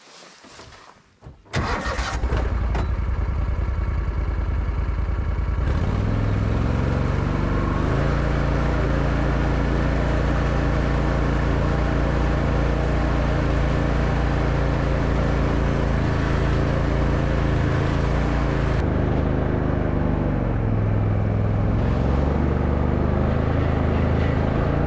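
An Argo amphibious vehicle's engine cranks and starts, then holds a loud, steady droning run with slight shifts in pitch as it drives through mud, close and continuous.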